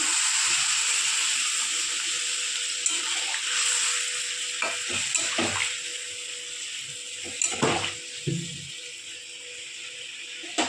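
Water is poured into a pan of green jackfruit masala, which sizzles and fries while a spoon scrapes and stirs it, producing a steady hiss with irregular knocks and scrapes, alone and fairly close.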